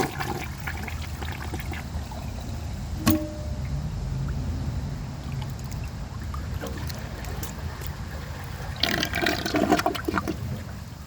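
A 2022 10-inch rough-in Mansfield Summit toilet flushes with a steady rushing wash of water that runs throughout, swelling into a louder surge and gurgle near the end.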